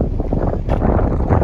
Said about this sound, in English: I'm sorry about the wind blowing